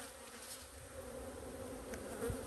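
A honeybee colony at the hive on a cloudy day gives off a steady, low, even buzz that holds throughout without pause, with no voices.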